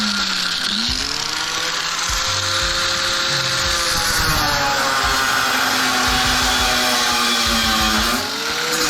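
Angle grinder cutting the head off an extruded metal athletic high jump stand, a loud, close, continuous whine that rises and falls in pitch as the disc loads and frees up.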